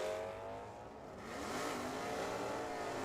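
A 1984 Ford Mustang drag car roars off the line at a drag strip and pulls hard down the track. Its engine note rises steadily as it winds up through the run, heard from a moderate distance.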